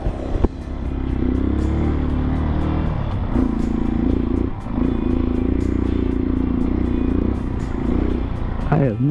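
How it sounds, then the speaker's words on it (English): A motorcycle engine warming up at a roadside on Michigan's route 72 near Kalkaska, a steady close idle rumble running throughout with slight rises in pitch, heard alone with no talking. "Get the bike warmed up here."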